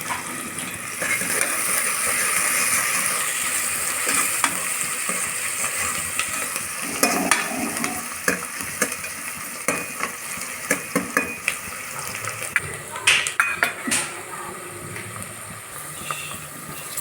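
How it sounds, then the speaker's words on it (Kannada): Bay leaf, spices, green chili and onion fry in hot oil for a chicken biryani, a steady close sizzle with scattered clinks and scraping stirs from about the middle onward. "ಹಸಿಮೆಣಸಿನ್ಕಾಯಿ, ಈರುಳ್ಳಿ ಕೆಂಪಾಗೋ ತನಕ ಹಂಗೆ ಸ್ವಲ್ಪ ಹುರಿರಿ"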